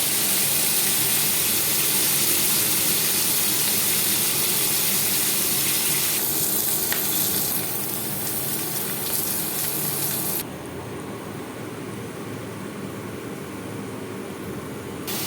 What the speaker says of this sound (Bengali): দেখো ভালো করে নেড়ে চেড়ে ভেজে নিচ্ছি